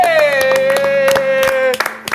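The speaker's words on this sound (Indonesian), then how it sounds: "Gila, tepuk tangan buat Cahya Supriyadi." A few people clap hands in a small studio, giving a short run of near, uneven claps under a sustained tone, with people talking.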